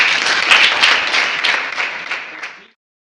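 A classroom of ninth-grade students bursts into loud, dense clapping for a classmate. The clapping holds steady for over two seconds, then cuts off abruptly.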